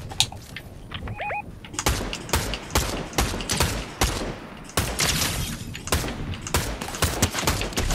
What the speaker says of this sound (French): Ah, je me fais tirer dessus.